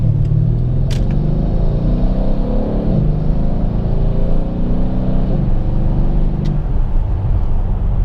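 Mercedes-Benz W212 E63 AMG V8 pulling through a medium acceleration, a loud, steady engine drone rising in pitch, dropping at gear changes, then climbing again, heard from inside the car.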